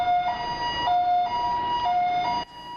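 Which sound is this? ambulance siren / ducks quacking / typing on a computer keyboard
ambulance siren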